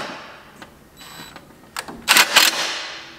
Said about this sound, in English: All you're going to do is set a center screw in.